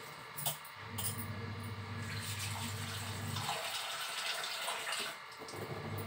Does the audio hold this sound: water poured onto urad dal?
yes